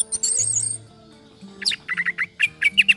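An orange-headed thrush (anis merah) sings close by in short, bright chirps and trills. A sustained high whistle opens the phrase, and a quick run of repeated notes follows.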